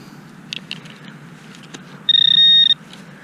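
Metal detector signal on a dig at an 1873 bed and breakfast: a brief, sharp, high electronic tone lasting about half a second, preceded by faint clicks and handling sounds over low background rumble.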